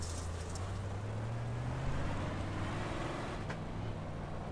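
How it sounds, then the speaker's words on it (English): Engine note from a 358 Modified race car in iRacing at Volusia, a steady low droning hum with a slight rise in pitch partway through, continuous and moderately loud with no talk. "I just hear them revving the engine over and over"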